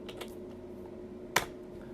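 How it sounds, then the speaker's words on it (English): A few keystrokes on a computer keyboard, soft taps at the start and then one sharp, louder click, close by over a low steady hum. "I'm very good at typing"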